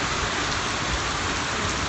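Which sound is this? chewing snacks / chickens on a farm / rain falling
rain falling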